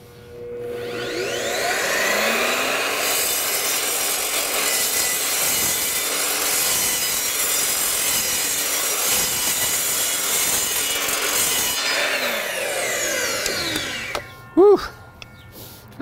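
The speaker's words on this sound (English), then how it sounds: "we're gonna start the saw cutting, and we're gonna roll the PVC into the blade" A table saw with a 10-inch blade spins up and then rips steadily through PVC rolled into the blade, a loud continuous grinding whine lasting about ten seconds before winding down, followed by a brief clatter.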